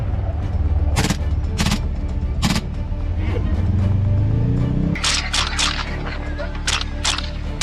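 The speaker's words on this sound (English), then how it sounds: "The continuous gunfire scared the wild boar and ran towards the forest." Hunters shoot at wild boar in rapid continuous gunfire, sharp loud cracks coming in quick bursts. A rising engine-like drone runs between the volleys.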